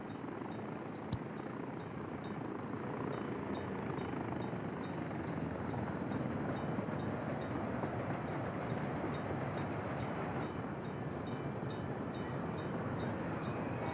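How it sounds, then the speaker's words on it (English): Steel worker commuter train running in the city-building game Workers & Resources, a steady loud rumble and rolling rail noise sustained throughout with a couple of brief sharp clicks. "And this is a steel worker train."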